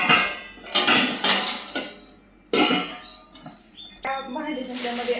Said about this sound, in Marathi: 3 पातेली मिळालेली आहेत.